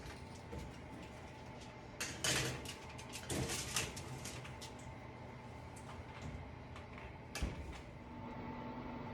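An oven door opens and closes as a pecan-crusted pork tenderloin goes in, giving a few faint clunks and thumps over quiet kitchen background noise.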